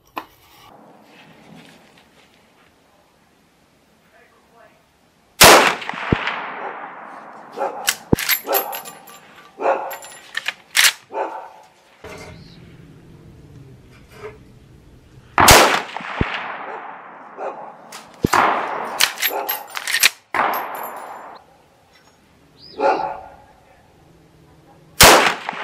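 .30-30 rifle shots fired at 200-yard targets ring out as several sharp, loud cracks spaced seconds apart, each trailing into a long echoing decay, with a few quieter clanks and someone speaking between them.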